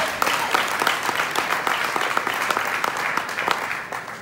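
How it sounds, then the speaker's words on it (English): An audience at a business award event claps steadily, a dense, even applause that stays close and consistent throughout with no voices. "Yes, you can clap for that."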